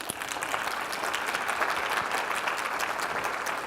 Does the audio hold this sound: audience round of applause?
yes